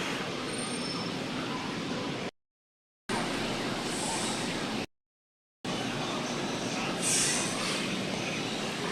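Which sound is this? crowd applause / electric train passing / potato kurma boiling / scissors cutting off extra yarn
electric train passing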